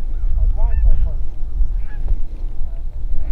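Wild geese honk in several short calls during an early-season goose hunt, heard over steady low rumbling noise at moderate distance, with a few brief vocal sounds.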